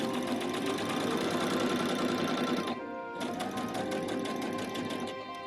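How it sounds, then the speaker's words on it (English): A sewing machine running steadily while stitching a French seam in fabric, a dense rapid mechanical whir that pauses briefly and then resumes at the same even pace. "sew the French seams by pinning the fabric right sides together and sewing the remaining ½ inches seam allowance"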